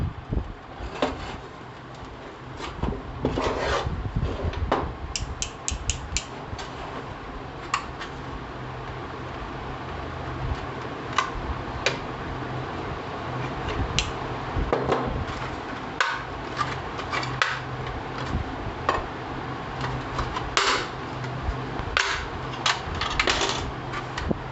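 An opening being cut in a single-phase electrical distribution box, heard as a run of close, sharp clicks and snaps with scraping between them, irregular and spread out over a steady low background hum.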